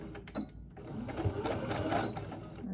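A sewing machine runs steadily while stitching a zipper, its fast mechanical whir continuous and close for nearly three seconds, with no talking over it.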